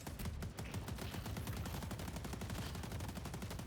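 A turret firing in the Deadlock video game, a dense, continuous stream of rapid loud shots with no pauses.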